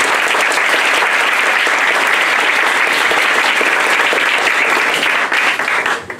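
Audience at a high school reading concert applauds loudly and continuously, a dense wash of close clapping that holds steady before tapering off at the end.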